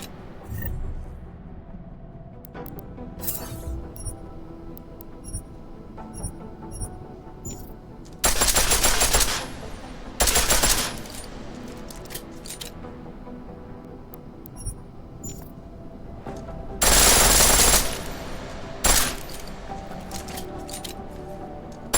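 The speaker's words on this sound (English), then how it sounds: "The pistol in full auto will take down targets fast." A pistol fires on full auto in Deus Ex: Mankind Divided in two short, dense bursts of rapid shots, loud and close, with quieter clicks and mechanical game sounds between them.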